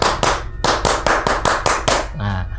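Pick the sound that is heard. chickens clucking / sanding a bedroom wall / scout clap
scout clap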